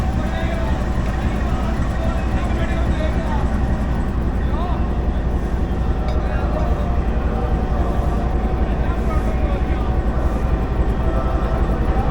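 A Subak Raftar railcar train rumbles steadily at an inauguration, a loud, continuous low roar with unbroken heavy noise throughout, and people talking over it.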